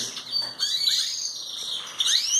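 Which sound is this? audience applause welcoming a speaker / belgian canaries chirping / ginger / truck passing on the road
belgian canaries chirping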